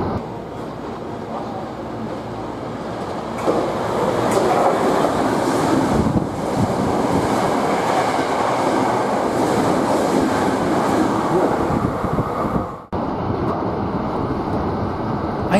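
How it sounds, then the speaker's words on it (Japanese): A Hankyu Kyoto Line limited express train runs through Aikawa Station without stopping, giving a loud, steady rumble of wheels and motors with faint rail clatter and a brief sharp dip in the noise near the end. "列車は相川駅を通過します。"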